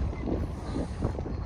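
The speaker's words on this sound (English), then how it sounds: "It's getting windy." Gusty wind buffets the microphone at an outdoor concrete water tank slab pour, a brief low rumbling roar with no voices.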